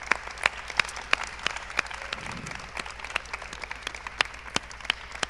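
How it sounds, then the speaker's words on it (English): Scattered audience clapping at an arts festival feedback session, sparse individual claps rather than a full ovation, with a low steady hum underneath. "a round of applause"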